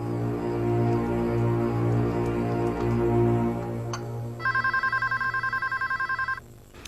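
A telephone bell rings in a burst of repeated trills near the end, heard clearly over a steady low background of music or room hum.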